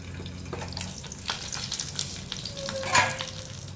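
Banana flower paturi frying over a low flame in a covered pan, giving a steady soft sizzle with crackling bursts and a brief louder spatter near the end, heard up close and without speech.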